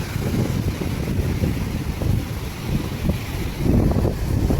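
A boat moves out through surging sea waves, heard as a continuous low wind-buffeted rumble with washing water that swells slightly toward the end, with no voices.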